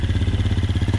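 An enduro motorcycle engine on a forest trail throbs in a low, steady pulsing beat, close and fairly loud, with no talk over it.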